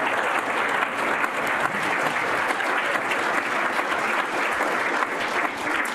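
Sustained audience applause at a National Press Club event, a dense, steady wash of many hands clapping that holds at full loudness throughout with no voices above it.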